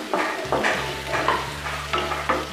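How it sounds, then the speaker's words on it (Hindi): Potatoes sizzle and fry in a hot pan with repeated scraping stirs every half second or so, steady and close, with no talking. "हम इसमें आलू भी डाल देते हैं और इनको एक मिनट के लिए भून लेते हैं"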